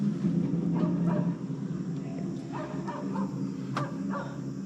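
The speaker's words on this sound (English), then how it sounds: "Where's the dog come from?" A dog barks in short, separate bursts in Da Lat, Vietnam, near a mini cable car line, loud but set back against a steady broadband rumble, with no talk.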